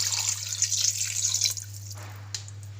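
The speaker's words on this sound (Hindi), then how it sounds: "1 लीटर पानी कम था, इसलिए हमने 2 लीटर पानी ऐड कर लिया" Water pours and splashes into a cooking pot close by, then tapers to a trickle over a steady low hum.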